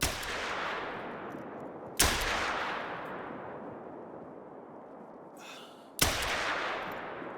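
Three sharp handgun shots in the hunting game theHunter: Call of the Wild, spaced a few seconds apart. Each crack is followed by a long echoing rumble that fades slowly across open terrain.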